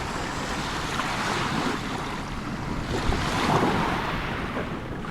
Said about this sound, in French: les vagues elles sont immenses là derrière la barrière de corail par moment